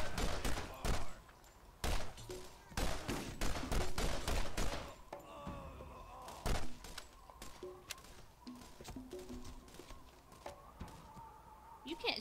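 Borderlands gunfire comes in bursts of rapid, loud shots, some close and some further off, mixed with game effects and occasional talk from the player.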